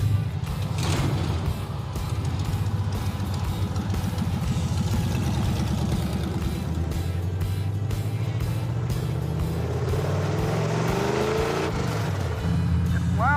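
A car engine idles loudly and steadily nearby, a low rumbling drone with slight rises in pitch toward the end.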